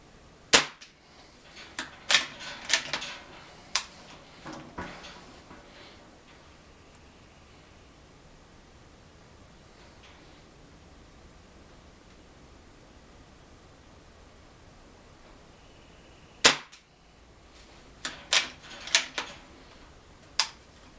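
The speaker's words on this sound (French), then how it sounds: "J'avais bien tiré les 8 coups." Hammerli 850 AirMagnum CO2 air rifle fires eight sharp shots outdoors, a few sharp cracks early, several more near the end, spaced irregularly against a quiet, faintly hissing background with a long gap between.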